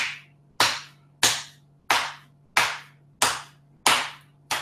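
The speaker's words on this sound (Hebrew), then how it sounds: "לטפוח פה במפרק. תפיחות קלות ועדינות" Light, gentle tapping with the hand on the wrist joint, eight crisp, evenly spaced pats about half a second apart, close and clear with no talking.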